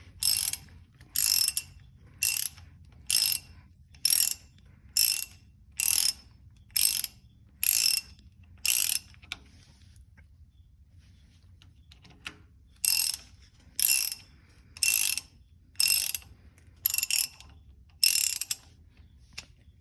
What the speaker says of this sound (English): now we're getting the last bolt out, and it's a 9/16 ratchet